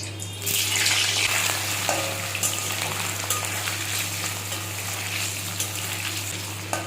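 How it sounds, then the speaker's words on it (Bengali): Paneer pieces frying in hot mustard oil, opening with a loud burst of sizzling that settles into steady close crackling and bubbling, with a low steady hum beneath and no talking. "তেল গরম হয়ে গেছে পনিরগুলো ভেজে নেবো এবার"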